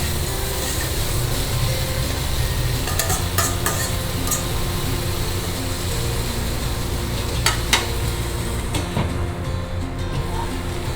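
Mixed vegetables stirred in a cooking pot, a steady sizzle under continuous scraping and clinking of the spoon against the pot, close and even throughout with a couple of sharper knocks.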